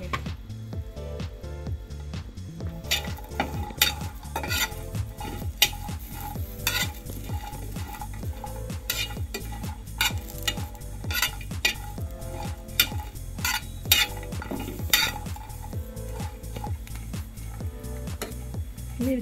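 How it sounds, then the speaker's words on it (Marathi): Chillies roast and get stirred in a hot, dry frying pan, giving a steady sizzle broken by repeated scraping and clinking of a utensil against the pan, loud and close with no talking. "फ्राईंग पॅन गरम झालेला आहे, त्यामध्ये आपण ह्या मिरच्या डाग लागेपर्यंत भाजून घ्यायच्या आहेत।"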